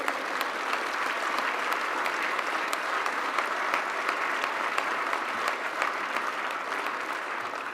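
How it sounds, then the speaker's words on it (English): An audience at a UKIP political speech applauds Nigel Farage, steady sustained clapping that holds level throughout with no talk over it. "Please give him a round of applause."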